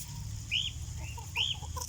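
Chickens cluck and call at a moderate distance in two short bursts over a low ambient hum, with no one talking.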